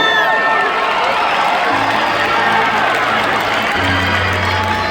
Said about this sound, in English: please get ready to cheer on your graduate and be as loud as possible